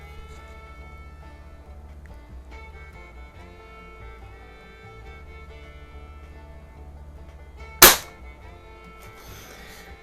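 A single sharp air gun shot or pellet impact rings out against steady background hum, one crisp loud transient with a short decay, from a Walther air rifle fitted with a 4x32 scope being fired offhand at a bullseye target.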